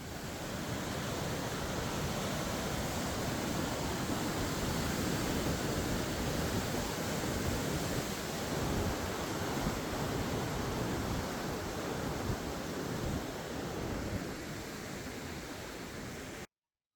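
River water rushes steadily at a trail crossing on a trek in Nepal, a dense, unbroken hiss of flowing water heard alone from start to finish.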